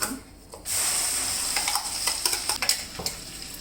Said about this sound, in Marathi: आणि छान असं परतून घ्यायचं.